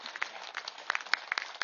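A standing crowd at a Pyramid Masters meditation gathering in a village claps in a brief, scattered burst, individual hand claps popping irregularly over a softer wash of applause, somewhat muffled and not very loud.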